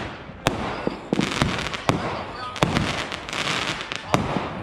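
New Year's street fireworks go off in Brooklyn, loud firecracker bangs and crackling bursts coming in quick irregular succession close by, with a voice under the blasts.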